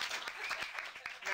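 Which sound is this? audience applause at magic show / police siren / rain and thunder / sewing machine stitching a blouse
audience applause at magic show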